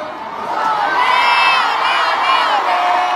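A large concert crowd roars and cheers continuously, with high shrieks and whoops layered into the dense, loud wash of voices.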